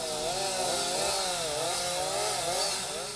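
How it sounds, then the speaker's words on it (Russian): A chainsaw drones steadily through felled trunks in a taiga forest, its engine note wavering up and down as it cuts; loud, continuous and close, with no voices. "В лесу раздавалась пила дровосека"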